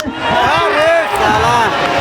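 Spectators at a football semi-final match make a loud, continuous crowd roar, with cheering and shouting voices swelling throughout.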